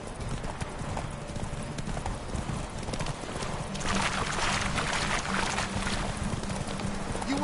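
Roach, Geralt's horse in The Witcher video game, gallops with a rapid, rhythmic clip-clop of hooves that grows louder and denser partway through, with a faint whinny mixed in under game music.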